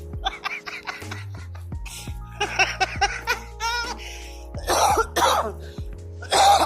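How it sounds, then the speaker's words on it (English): Several sharp coughs and throat clearing sounds, close and uneven, with brief laughter-like bursts and a low musical tone underneath. "I'm going to start coughing"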